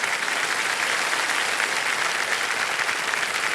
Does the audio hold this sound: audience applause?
yes